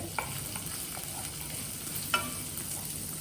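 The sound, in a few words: stirring ginger sautéing in a pan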